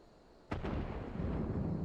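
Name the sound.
cannon fire explosions in Final Fantasy XIV video game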